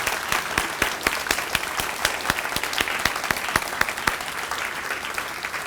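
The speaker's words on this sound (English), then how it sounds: "give him a big round of applause." School gym audience at a moving-up ceremony gives a round of applause, a continuous crowd clapping with distinct, loud individual claps punctuating it in a fairly regular rhythm.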